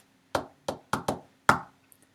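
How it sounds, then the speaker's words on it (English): Five soft knocks on a door, tapped in the opening rhythm of Wheels on the Bus, close and clear in a quiet room: a pair, then two quick ones, then a final knock after a pause. "A soft knock at my door told me Robin was back. She always knocks the beginning of Wheels on the Bus."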